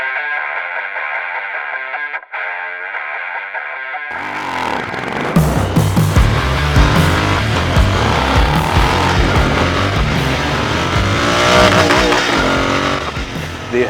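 Royal Enfield Interceptor 650 fitted with aftermarket AEW exhaust pipes, starting after a quiet lead-in and then revving loudly with rising and falling engine pitch, close and continuous.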